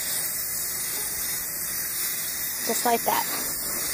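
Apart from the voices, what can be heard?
spray paint can spraying onto metal shelves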